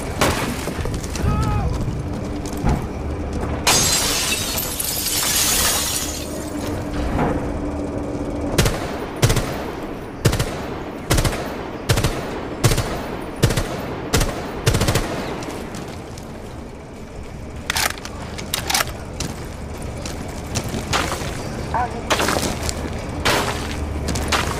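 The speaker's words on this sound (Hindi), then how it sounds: "Cluster charge activated. Detonating cluster charge." In a Rainbow Six Siege match, a cluster charge goes off as a rapid string of sharp blasts and cracks amid gunfire and breaking debris, with voices talking over the action.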